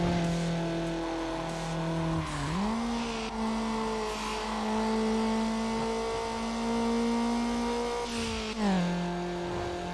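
Mazda Miata engine in Need for Speed Underground droning at steady revs with a sharp gear shift dip and a second shift near the end, loud and close, no talk.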